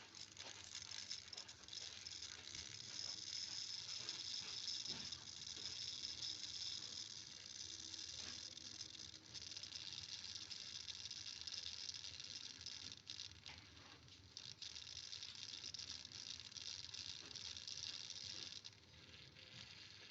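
Meshing gears on a motor-driven rotating shaft give a steady, fairly faint mechanical patter and ratcheting click, continuous for the whole stretch with a few small dips, and no voices.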